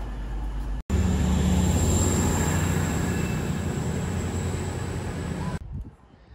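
Train and track machines passing at a railway station, a loud sustained rumble of wheels and engines with high whining tones, lasting several seconds before cutting off abruptly to quieter ambience.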